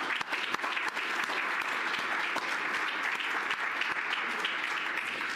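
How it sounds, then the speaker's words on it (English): At a 2022 symposium welcome, an audience applauds the event's sponsors. Steady, crowded clapping from the hall runs unbroken from start to finish, with no voices on top. "If we could give them a round of applause."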